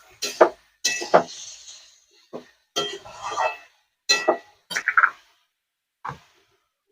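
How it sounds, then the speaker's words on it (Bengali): A spoon clinks and scrapes against a pan while bottle gourd is stirred together with spices, in irregular separate knocks with quiet gaps between them. "ভালো করে মশলার সঙ্গে মিশিয়ে নেব।"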